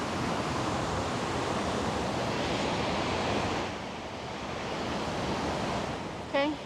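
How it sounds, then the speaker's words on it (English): Rushing river water at the Merrickville locks in Ontario, a steady loud broadband roar that eases slightly partway through, with a brief faint voice near the end. "So here's the rushing water."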